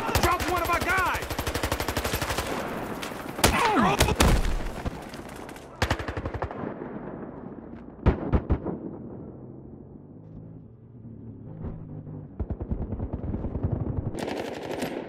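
Machine gun fire in the Battlefield Hardline video game, loud rattling bursts and sharp single shots with a few heavier blasts, fading briefly before another burst near the end.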